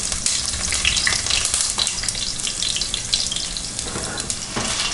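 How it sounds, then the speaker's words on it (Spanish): Onion pieces frying in hot oil in a pan for red rice, a loud, steady, close sizzle and crackle running throughout with no talking. "Entonces le vamos a aventar 4 pedacitos de cebolla."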